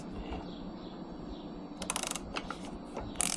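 A 2025 Honda Grom engine is cranked over by hand during an intake cam install. It gives short bursts of quiet, close mechanical ratcheting and clicking over a faint background hiss.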